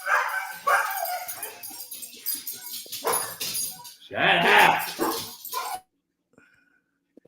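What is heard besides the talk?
dogs barking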